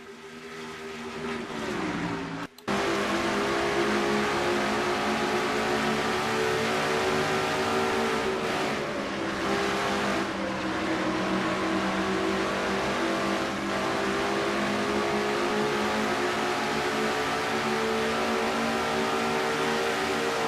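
Stock car engines scream at very high RPM in a racing game, a sustained, close, steady whine that shifts gear briefly early on and then holds a high pitch throughout with no talk.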